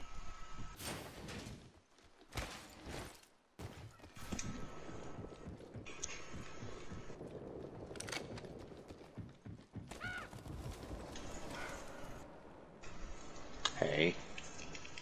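Game-style hoofbeats clop along with a horse whinnying near the end in Apex Legends, mixed with scattered effects and occasional voices talking over them.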